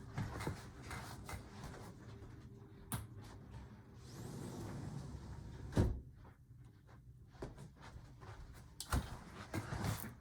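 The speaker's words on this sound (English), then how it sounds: "Okay, I'm going to close the window." A window being shut indoors: a few short knocks and sliding thumps stand out against a quiet room, with one sharper clunk near the middle and another toward the end.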